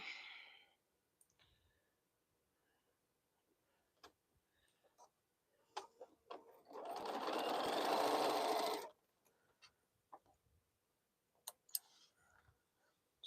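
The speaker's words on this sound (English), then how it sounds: "I just sewed two pieces together." A sewing machine joining two fabric pieces for crumb quilt piecing, running in one sustained burst of about two seconds, surrounded by quiet ticks, clicks and handling noises.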